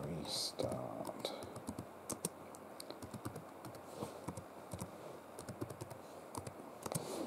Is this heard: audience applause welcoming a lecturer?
no